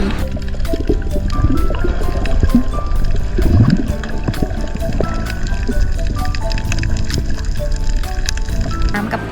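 Water gurgling and bubbling as divers go under near the coral at Nemo Paradise dive site off Surin Islands, a continuous close muffled wash with bubbly swirls and no talking.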